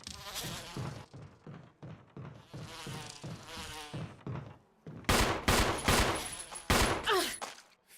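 Bees from a giant beehive in a video game give off a pulsing, close-up drone, then loud harsh bursts break in during the second half.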